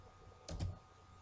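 A couple of quick keystrokes on a computer keyboard, typing a file name at a Java program prompt, close and fairly quiet over faint background hum.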